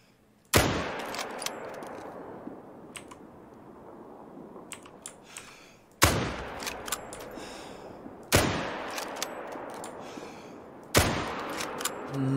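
Four loud, sharp rifle shots ring out at a melanistic bear in the snowy Medved Taiga of theHunter: Call of the Wild, each followed by a long echoing decay, with faint clicks between them.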